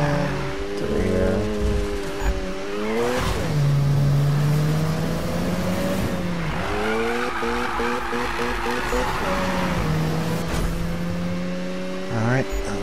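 A Mazda RX-7 drifts in a driving video game, its engine revving high and falling through gear changes with brief tire squeals, loud and up close, while someone talks over it.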